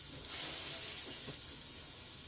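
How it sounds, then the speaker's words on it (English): Onions caramelizing in a pot for vegan minestrone soup, giving a soft, steady sizzle and faint frying crackle at low volume, with no other sounds. "You're looking for a really good caramelization on those onions."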